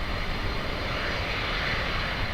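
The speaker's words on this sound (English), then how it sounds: "I think we might have a takeoff soon." Airliner jet engines at Miami International Airport give off a steady, distant broadband roar during takeoff, holding an even level with no talk over it.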